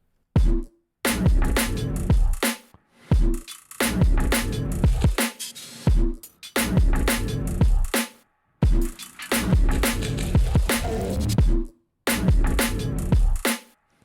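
Gritty, growling bass stabs hit in short bursts separated by brief silences, alternating phrases like a call and response, loud and aggressive.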